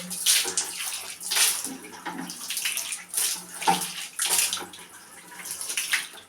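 Water runs and splashes as someone washes their feet at home, in uneven surges and lulls of close, moderately loud pouring and spattering.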